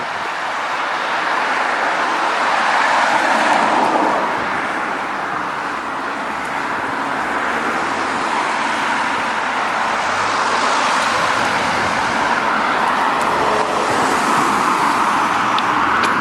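Cars stream past on a busy road, a loud, continuous wash of tyre and engine noise that swells slightly as individual vehicles go by, with no voices over it.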